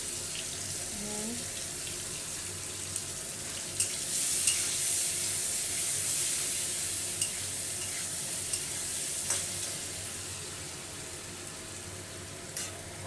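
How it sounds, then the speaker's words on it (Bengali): Spice paste of turmeric, salt and ginger-cumin paste frying and being stirred in a pan for a paneer curry with cauliflower and potato, a loud continuous hiss with scattered scraping clicks. "আমার মশলাটা কষানো হয়ে গেছে"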